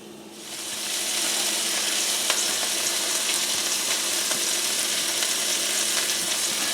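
A burger patty frying in a pan for a patty melt gives off a loud, steady sizzle that swells within the first second and holds evenly, with faint pops and crackles and no talking.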